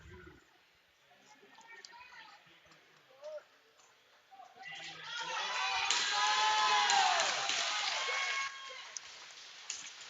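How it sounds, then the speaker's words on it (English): Applause and cheering from the home crowd at a Tonawanda Braves box lacrosse game as goalie Wayne Abrams trots out, swelling for a few seconds in an arena and then fading under a commentator's voice. "Wayne Abrams gets a nice round of applause from the Braves faithful as he trots out to his spot"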